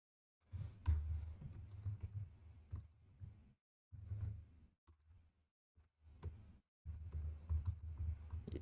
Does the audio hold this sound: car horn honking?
no